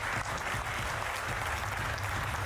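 A conference audience at a high-level plenary applauds with dense, continuous clapping that holds steady throughout.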